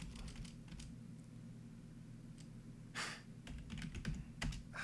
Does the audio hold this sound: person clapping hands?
no